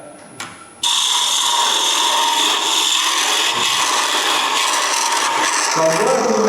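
A gouge cuts into wood spinning on a wood lathe, a loud, continuous scraping rasp that starts abruptly after a brief quieter moment and holds steady close up.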